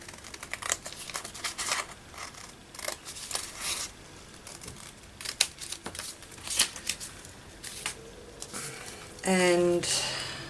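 Scissors snipping through card for a lapbook craft project, a run of short crisp cuts and rustles close to the microphone, with a brief voice near the end.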